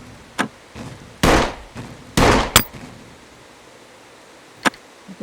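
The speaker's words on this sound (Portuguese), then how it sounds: "É você atirando?" Gunshots ring out during a video game raid: a few sharp isolated cracks and two longer bursts, loud and close, with quiet gaps between them and no talk.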